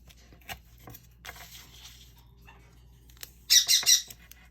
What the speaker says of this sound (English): She's a painted conure.